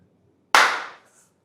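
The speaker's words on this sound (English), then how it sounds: "That's a clap." An audience at a talk gives a single loud, unison clap, sharp and close. It decays over about half a second, and the room is otherwise quiet.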